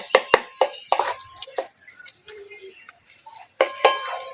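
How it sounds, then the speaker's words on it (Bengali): Two eggs scrambled into bhujia over a low flame in a little oil, with a utensil clinking and scraping against the pan in close bursts between quieter moments, and only a faint sizzle underneath. "আস্তে আস্তে জাল দিয়ে ভালো করে ভেজে নেব"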